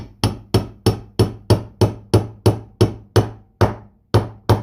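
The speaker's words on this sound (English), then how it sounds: "I'm just gonna go with a regular small hammer." A small hammer taps a seal into place on a Toyota rack and pinion, about a dozen sharp, evenly spaced blows close by, each ringing briefly before the next strike.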